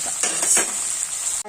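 Okra sizzles as it fries in a clay pot while being stirred for a theeyal curry: a loud, close, continuous crackling hiss with scraping stir strokes and no talk.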